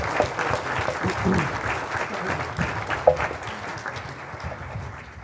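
Audience applause at a mayor's community night event honoring the Hammond Police Department, steady clapping from a crowd filling the room with a few murmured voices mixed in.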